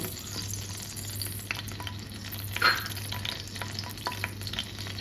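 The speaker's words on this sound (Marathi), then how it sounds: "आता आपण तेलामध्ये तेजपत्ता, काली मिरी, मोठी वेलची हे टाकून घेऊया। ते चांगलं परतून घेऊया।" Bay leaf, black pepper and black cardamom sizzle softly in hot oil in a pan while making chole, a steady low frying hiss with a few light stirring clicks and one brief louder scrape.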